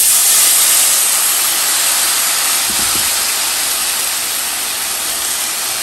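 Blended tomato is poured into frying soup pasta, setting off a loud, fierce sizzling hiss that fills the pan and slowly eases.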